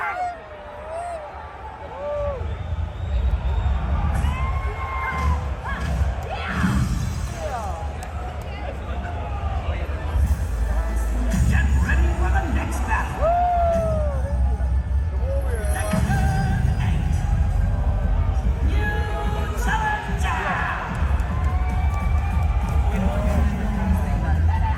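A crowd at a Tekken fighting-game event reacts to the character Lydia with a steady, busy hubbub of voices, scattered shouts and reactions throughout, with nearby talk running over it.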